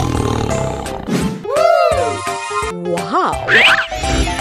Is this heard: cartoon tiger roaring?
yes